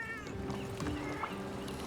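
A cat meowing in Monster Hunter Rise Sunbreak, a few short nearby mews over a steady game music bed, with no talking.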